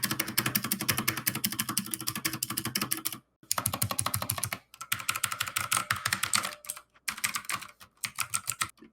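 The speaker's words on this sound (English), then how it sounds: "Even when I press like this, you could hear this stabilizer rattle." Keys of a custom budget mechanical keyboard clack in fast, steady runs of typing with brief pauses, the stabilizers rattling loosely on the larger keys, close and crisp with no talking.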